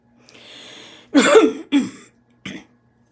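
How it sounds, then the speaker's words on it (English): A person clears their throat close up, a few harsh rasping bursts, the last one short and quieter. "just clearing my throat"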